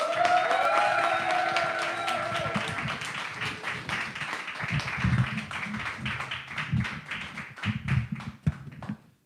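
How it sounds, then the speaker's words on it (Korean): A congregation at a Sunday church service claps in a dense, sustained round of applause. Tonal sound lies under the start, and the applause swells again near the end before cutting off. "이렇게 큰 열화와 같은 박수는 처음입니다"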